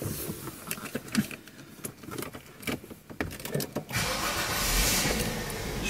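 A Peugeot 406 manual coupe engine cranks and catches, settling into a steady, fairly loud idle inside the car after a few seconds of cabin rustling and clicks.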